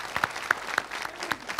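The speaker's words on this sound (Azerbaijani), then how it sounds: "Alqışlayaq" A studio audience on a television game show applauds briefly, with scattered distinct claps over a soft background wash.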